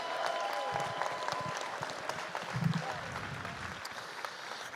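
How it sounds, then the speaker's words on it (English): Convention-hall audience applauding an accounting team during a general session, a sustained, fairly faint patter of clapping heard from a distance, with a low murmur and brief tonal sounds mixed in underneath. "Let's all give them a big round of applause"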